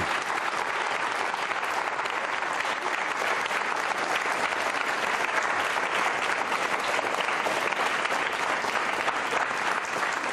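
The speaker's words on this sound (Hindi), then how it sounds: "तालियां जोरों से बजाइए और उनके लिए आप" Sustained, dense applause from an audience at a Ramadan quiz show event, steady and loud throughout with no letup.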